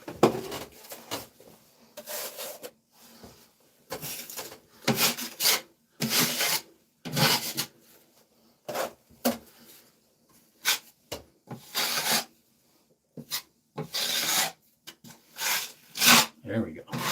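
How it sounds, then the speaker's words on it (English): A wide drywall knife scrapes and spreads joint compound across a drywall repair, giving repeated rasping strokes in bursts with short pauses between them. Someone talks at intervals between the strokes. "Use this wider knife. Should be able to spread that better."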